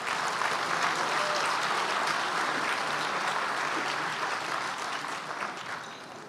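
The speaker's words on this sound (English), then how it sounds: "Let's give them another round of applause." A large crowd applauds volunteers at a Malaysian political gathering, sustained broad clapping holding steady and then slowly tapering off near the end.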